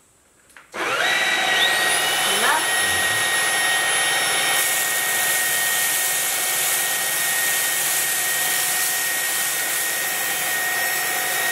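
A vacuum cleaner switches on after a moment of quiet and runs with a loud, steady high whine and rushing suction, sucking up rice, until the end.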